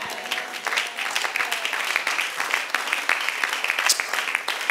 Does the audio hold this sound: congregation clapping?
yes